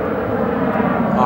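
An Embraer ERJ 135 regional jet at Phoenix Sky Harbor Airport gives off a steady, broad engine roar that holds evenly throughout, with a voice talking over it.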